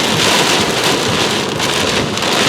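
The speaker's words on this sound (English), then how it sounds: "Too bad it's so much rain." Heavy rain pours steadily and loudly during a tornado storm in Adel, Georgia, a dense unbroken roar of drops pounding surfaces with no voices.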